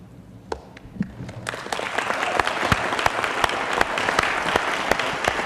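Applause from a city council audience for Officer Duvall, starting with a few scattered claps and quickly swelling into full, steady clapping from many people that holds to the end.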